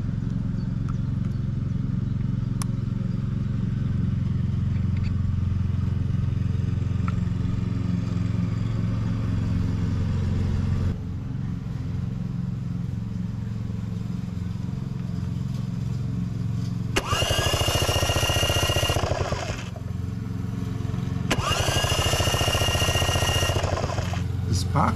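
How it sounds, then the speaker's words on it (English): A Vespa PX scooter with its spark plug connected gets an ignition test: a low steady mechanical hum gives way to two bursts of loud rapid rattling kick-over and cranking noise, close by. "Let's make an ignition test with the spark plug connected to see if the spark plug works properly."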